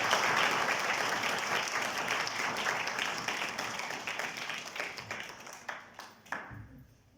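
A church congregation claps together in praise during a Sunday service, a steady wash of many hands at moderate distance that fades and thins into a few last isolated claps.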